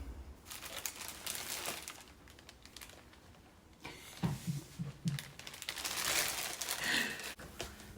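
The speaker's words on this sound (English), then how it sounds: "I wonder how much my bags are crinkling." Plastic shopping bags crinkle and rustle in irregular bursts close by, with a louder stretch of handling toward the end and no speech.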